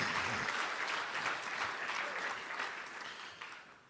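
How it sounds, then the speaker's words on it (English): A crowd at a Big Sky Conference Hall of Fame induction ceremony bursts into applause, a dense wash of clapping that fills the hall and slowly fades out. "Let's just clap for that."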